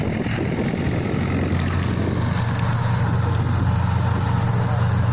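A new Vishavkarma straw reaper runs in a field, a loud continuous low mechanical drone with wind rumble, heard close and steady throughout.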